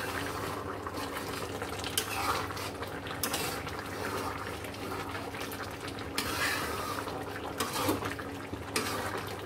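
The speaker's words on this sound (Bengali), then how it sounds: "আমি একটু হালকা হাতে এটাকে নাড়িয়ে দিচ্ছি।" Ash gourd curry being stirred gently in a pot, a soft wet scraping and sloshing of soft cooked pieces in liquid, steady and close, with faint kitchen clatter and no talking.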